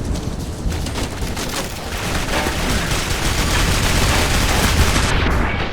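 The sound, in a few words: grenade explosion in Clive Barker's Jericho video game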